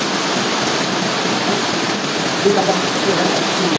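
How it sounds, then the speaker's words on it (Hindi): Heavy rain pouring outdoors during Ramadan in Pakistan, a dense steady hiss of falling water with a few faint sounds in the background. "बाहर अभी भी बारिश हो रही है, अच्छी खासी तेज़ बारिश हो रही है।"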